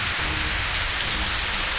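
Dense, steady unseasonal pre-monsoon rainfall hisses without a break, a close, broadband wash of heavy rain with no voices, in Nandurbar, Maharashtra.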